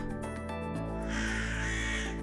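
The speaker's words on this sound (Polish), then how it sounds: "Sroka zwyczajna." A Eurasian magpie gives a harsh, rasping chattering call over a steady background of tonal music, the call rising in the second half and sounding fairly close.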